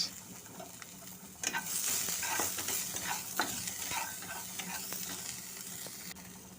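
Cumin seeds, panch phoron and a little onion fry in hot oil, a steady close sizzle broken by repeated scraping strokes of a spoon stirring around the pan.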